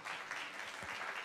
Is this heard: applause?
yes